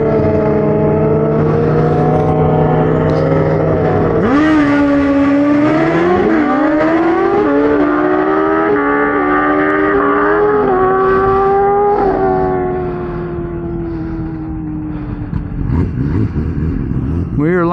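A turbocharged Suzuki Hayabusa launching on a drag strip pass, loud engine note climbing through rising whines with sharp shift drops between gears, then fading as the bike pulls away.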